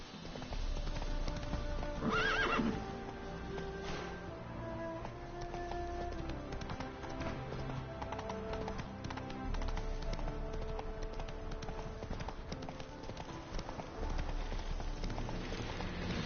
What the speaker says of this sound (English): Come on, Roach. Whoa!